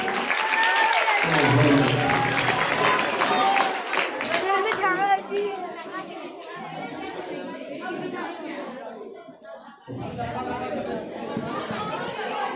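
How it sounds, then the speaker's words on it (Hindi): A crowd at an outreach gathering claps and chatters, with a loud burst of applause up front giving way to lively voices and scattered clapping, broken by a brief lull near the end. "फिर से ऊंची आवाज से जोरदार तालियां दीजिए"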